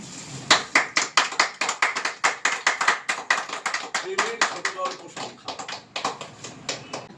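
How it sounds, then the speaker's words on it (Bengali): Audience applause at the launch of the 22nd issue of the Okopote literary magazine: a long run of brisk, dense hand claps, loud and close, with voices underneath. "হাততালিটা খুব জোরদার হওয়া চাই"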